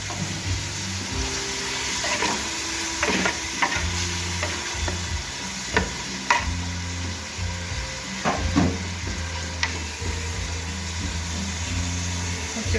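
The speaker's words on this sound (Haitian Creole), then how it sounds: "On tourner, on va quitter le fond légèrement frit." Chickpeas cooking in a pot, the bottom lightly fried, with repeated scraping stirs and a continuous oily sizzle over about thirteen seconds, accompanied by steady background music.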